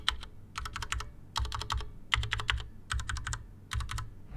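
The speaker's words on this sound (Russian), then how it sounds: "Чем отличаются свечи Cherry от свечей Akko? Они тоже бесшумные, но они кажутся немного шумнее" Typing on an Akko 3087 Horizon keyboard fitted with Cherry MX Red switches, close-up bursts of quick soft keystrokes in clusters separated by short pauses, with no voices.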